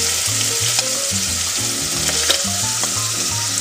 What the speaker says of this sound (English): Now I put the meat back in.